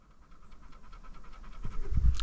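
A young dog pants steadily, the breathing starting soft and close, then growing louder and heavier toward the end, with no voices over it.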